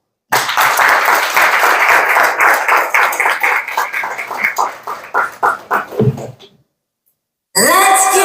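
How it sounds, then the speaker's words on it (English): Fashion show audience applauding as models take the runway, a loud, dense burst of clapping that thins into scattered claps and fades to silence before music cuts in abruptly at the end. "Let's welcome our models to the runway, ladies and gentlemen, with a warm round of applause"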